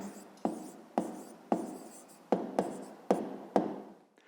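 A pen writes an answer to a school maths exercise on paper, making about eight short, sharp scratching strokes at a steady pace, close and fairly quiet, with no talking.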